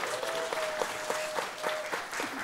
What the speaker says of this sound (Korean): 다시 한번 더 사랑하는 마음으로, 축복하는 마음으로 함성과 함께 박수합니다.